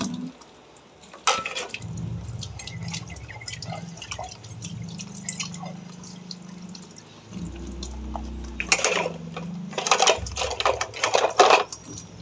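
Dishes being rinsed under a running kitchen tap after soaping, with steady splashing and dripping water and bursts of clinking, fairly close and alone without talk.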